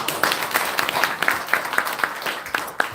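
Audience applause at the opening of an international memorial symposium, a steady patter of many hands clapping for about three seconds with no talk over it.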